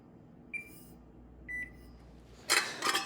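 Two short electronic beeps from a kitchen oven being set to preheat, about a second apart, followed by a louder, brief clatter close by.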